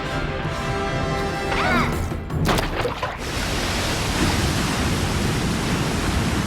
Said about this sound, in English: the score comes to an abrupt halt, allowing the sudden rush of overflowing water to take the floor